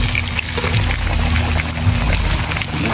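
Octongus, stuffed bangus fish, goes into hot cooking oil, giving a loud, steady close-up sizzle and bubbling hiss throughout with no talking.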